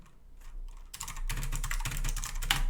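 Keys clattering on a computer keyboard while text is entered in Illustrator, a few scattered taps at first, then a dense, fairly loud burst of rapid typing.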